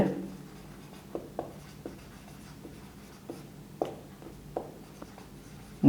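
Pen scratching on paper while someone writes out a maths problem, soft intermittent strokes and taps close by over a quiet room hum.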